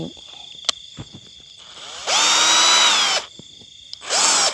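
A power drill whines loudly up to speed twice, each burst lasting about a second, boring into bamboo at close range with quieter clicks and handling noise between.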